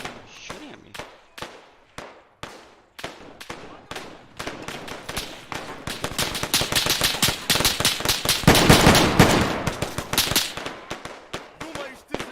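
Gunfire in the military shooter ArmA 3: sharp single shots crack out at a steady, spaced rhythm, then thicken into dense, loud overlapping bursts and rattling volleys before easing back to scattered reports near the end.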